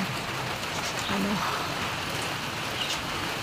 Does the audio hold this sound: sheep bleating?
no